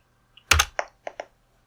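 Several distinct keystrokes on a Spectrum Next computer keyboard: a light tap, a heavier double press, then three quick clicks spaced apart, close and clear in a quiet room.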